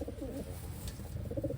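Soft, low pigeon coos repeating close by, a few throaty rolling calls over faint background noise.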